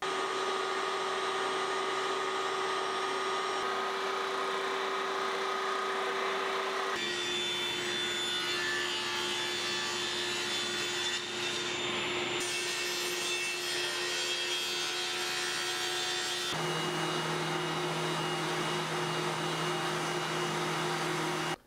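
CNC router steadily cutting a wooden houndstooth-pattern cutting board, a continuous loud whine and grind with motor tones shifting pitch several times as passes change, no talking.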